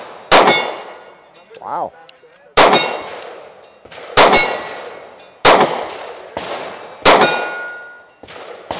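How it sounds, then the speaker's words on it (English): Beretta PX4 pistol shots, six sharp loud cracks spaced about a second and a half apart, each with a ringing metallic tail, at an outdoor shooting event; a man briefly exclaims between shots. "PX4, Beretta. I've never shot one before."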